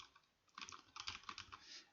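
Fingers type on a computer keyboard at a steady pace, a run of quick, close, fairly quiet clicks after a short pause, with no talking.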